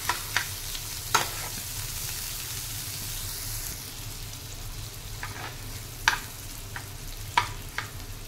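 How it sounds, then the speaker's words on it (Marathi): Chopped onion sautéing in homemade butter in a pan, a steady low sizzle and frying hiss with occasional sharp stirring clicks and scrapes of a utensil, close up with no talking. "त्याच्यामध्ये मी उभा चिरलेला कांदा परतून घेणार आहे। आपल्याला हा कांदा खूप परतायचा नाहीये"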